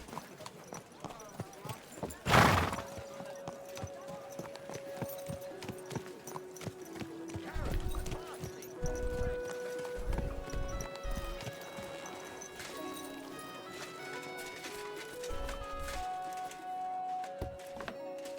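A horse in the video game Kingdom Come: Deliverance 2 clops along with hoofbeats thudding, after a loud thump near the start, over game music and someone talking.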